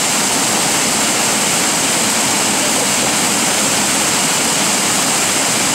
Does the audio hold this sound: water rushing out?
yes